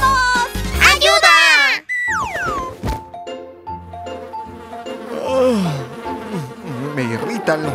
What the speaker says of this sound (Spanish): Me irritan los mosquitos.